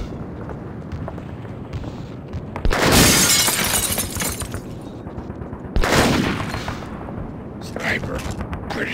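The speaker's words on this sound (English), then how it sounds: "Sniper. Pretty sure he's got a bolt-action rifle. Hit him while he's reloading. Nice shot." Two heavy sniper bolt-action rifle shots ring out in a shooter game, each a sharp loud crack with a ringing tail, over steady background noise and a quieter burst near the end.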